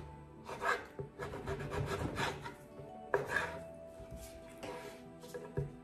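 A small knife slicing lengthwise through a mango for a mango, avocado and cucumber salad: soft, close rubbing and cutting strokes in irregular bursts, quiet overall with no talk.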